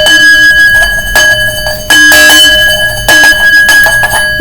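A metal singing bowl is struck again and again, each hit adding bright clangs and rattling attacks over a loud, continuous ringing drone.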